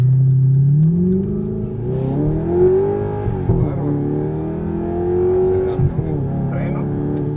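Exotic sports car fitted with a Lamborghini Gallardo engine accelerating, its engine note climbing and wavering in pitch. Close and loud, with people talking over it.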